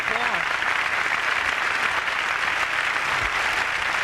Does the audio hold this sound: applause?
yes